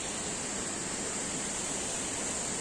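Devdhara waterfall running low in the dry season gives a steady, even rush of falling water, a constant broadband hiss with no talk over it.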